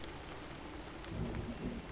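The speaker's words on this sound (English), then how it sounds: "Oh, there's the thunder." Distant thunder rumbles low and soft beneath steady rainfall, a brief storm swell rising over the patter of rain on surfaces.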